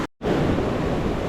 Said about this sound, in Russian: Там прям волна под ноги захлестывает по барабану.